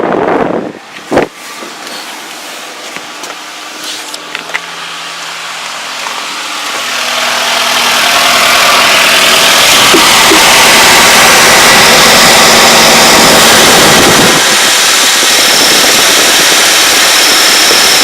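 A car engine idles quietly with a few scattered clicks and knocks, then a loud broadband roar swells in as the AC compressor engages with the fan on max. The roar holds steadily and eases slightly near the end.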